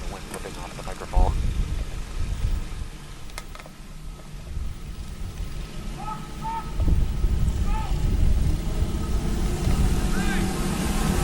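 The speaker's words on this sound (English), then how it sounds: "as you can see the wind whipping off the microphone" Low, rumbling wind buffeting a microphone throughout at Galletta's go-kart track during an October race, with faint distant bird calls and a voice in the background.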